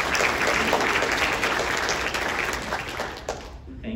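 An audience at the 2024 Guelph State of the City event claps in a sustained burst of fairly dense applause that thins and fades toward the end.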